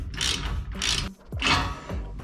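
A ratchet on a retractable jon boat transom strap being cranked down, with bursts of clicking pawl and grinding mechanism in three close strokes separated by short pauses.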